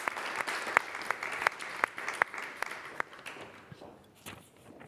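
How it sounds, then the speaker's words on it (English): An audience at a talk on European elections and regions claps in a burst of distinct, fairly close hand claps that thin out and fade over a few seconds, with no voices over them. "Round of applause."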